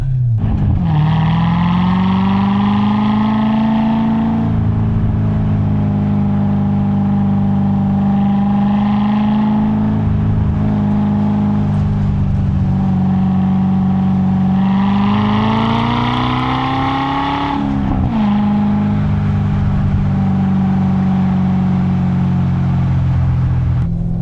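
A classic manual-transmission Corvette drives on the road, its engine a steady loud low drone that swells as it revs up through gears, rising in pitch then dropping at each shift, heard from inside the car without talk.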